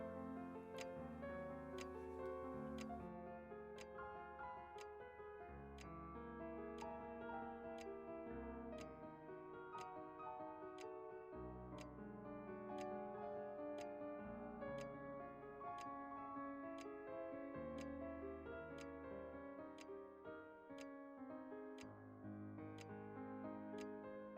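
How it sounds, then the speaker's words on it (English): A clock ticks in a steady, evenly spaced rhythm throughout, clear and close, with no voices over it. "Lulled by the ticking of the clock"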